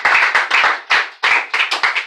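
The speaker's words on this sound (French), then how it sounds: "Est-ce qu'on peut acclamer la parole ce matin?" A church congregation at a French-language service claps in loud, close bursts of applause, the clapping arriving in uneven clusters with short pauses between them.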